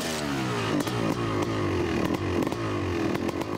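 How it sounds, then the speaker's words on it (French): A high-pitched two-stroke motocross motorcycle engine snarls continuously and loudly, with rapid revving pulses and brief clattering ticks at a motocross championship meeting. "le moteur 2 temps, plutôt aigu."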